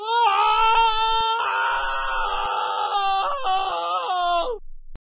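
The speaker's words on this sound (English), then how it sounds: "If you can't talk about it, you could scream." A cartoon character lets out a loud, sustained, high-pitched scream with wavering tones, lasting about four and a half seconds before cutting off abruptly.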